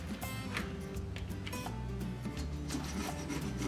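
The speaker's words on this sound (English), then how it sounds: "Just kind of scrape." A straight edge scraping baked-on grime off oven door glass makes a continuous close rasping scrape with short repeated strokes, fairly quiet and alone.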